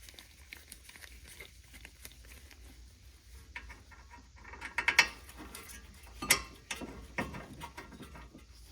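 Wrench ratcheting and clicking on the bolts of a rebuilt front brake caliper, in a quiet stretch of scattered mechanical taps and clicks, with a louder cluster of ratchet clicks toward the middle and end.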